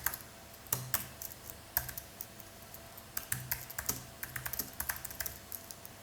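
Typing on a computer keyboard while writing a script in a terminal editor, quick irregular keystrokes in short bursts, close and clear, with brief pauses between runs.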